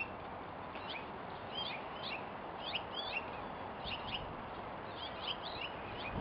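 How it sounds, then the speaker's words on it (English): Birds chirping outdoors near a horse paddock, recorded through the microphone of hi-def spy camera sunglasses: several short repeated high calls in loose bursts, fairly faint over a steady background hiss. "Hear the birds?"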